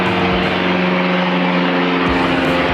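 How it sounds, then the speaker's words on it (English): An airplane passes overhead near an airport, a loud continuous droning roar with a steady hum that fills the whole clip. "That's an airplane going overhead."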